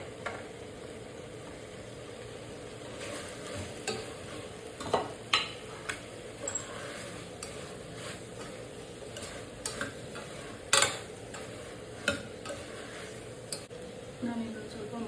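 Mushrooms added to cooked tomatoes in a frying pan for mushroom biryani, with soft scraping stirs, light sizzling and occasional spoon clinks, fairly quiet, while someone talks.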